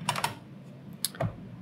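Typing on a computer keyboard: a couple of quick close key clicks, a pause, then two more soft taps, in a quiet room.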